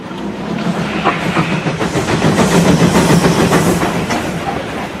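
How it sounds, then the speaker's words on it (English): A train carrying excavated earth rumbles steadily along the rails at the Panama Canal, with rhythmic clickety-clack from the wheels, loud and close, with no voices. "Trains take it to the ocean for breakwaters."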